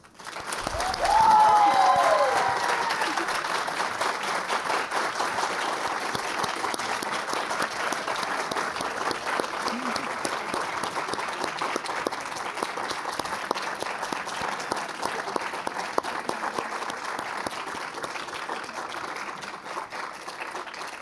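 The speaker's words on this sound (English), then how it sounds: "Let's give another round of applause to this year's Women's Achievement honorees." Sustained applause from an audience honoring award recipients at a women's achievement program, steady dense clapping that holds for about twenty seconds, with a brief whistle near the start.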